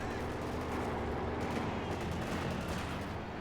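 Machine gun fire in Company of Heroes 2, rapid rattling bursts and booming battlefield gunfire layered densely and continuously at steady loudness, with no voice heard.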